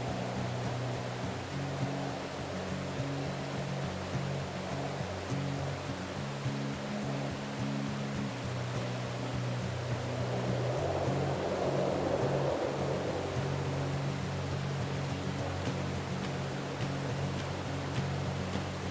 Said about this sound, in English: Chris operates gears and thrusters to keep the boat in position as the water swirls around us